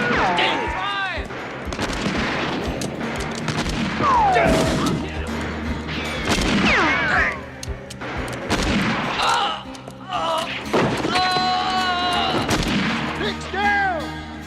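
Gunfire and crashes in a western film shootout, with repeated shots and impacts running through the clip amid shouting voices and action sounds.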